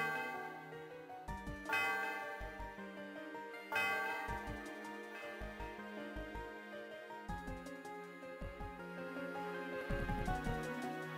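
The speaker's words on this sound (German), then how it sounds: "Die Glocke erfüllt die Umgebung mit ihrem wohligen Klang." The tower bell atop a tower in Pokémon Black rings out in a few resonant, sustained strikes that layer over a bright chiming melody, fairly quiet with no voices.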